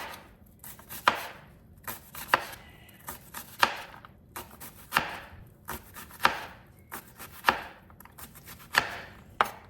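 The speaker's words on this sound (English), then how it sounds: "So basically what I'm going to do is chop my onion." A knife chops an onion on a board in a home kitchen, crisp regular strokes in small bursts with short pauses, close and clear.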